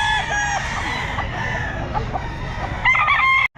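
Chickens and roosters at the Grotto pet market, Roundhead gamefowl among them, crow and cluck continuously and close by, with layered calls overlapping against steady crowd noise.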